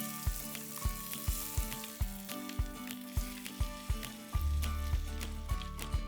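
Ground ridge gourd hits a pan of onions fried golden-crisp, sizzling steadily with rhythmic scraping stirs and a louder, fuller surge of frying near the end.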